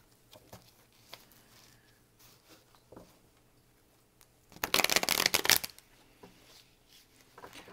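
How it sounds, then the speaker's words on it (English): Tarot cards being shuffled in a quiet room, a loud dense riffle burst of about a second after a few faint handling clicks and taps. "let's get some tarot"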